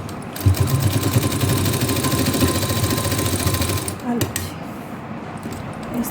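A sewing machine runs steadily up close for about four seconds while stitching a V-neck design on a garment, then stops with a brief mechanical clunk, and quiet room sound follows.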